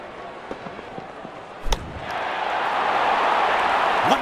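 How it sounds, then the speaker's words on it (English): A cricket bat strikes the ball for a six in an India versus Australia Test match, one sharp crack heard distantly and then followed by a swelling stadium crowd roar. "Wonderful sound of the bat, and that's a six."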